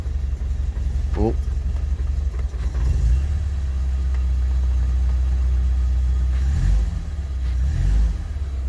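A classic car engine runs with the choke pulled out, a steady low rumble that swells briefly with a couple of revs, and someone talks over it.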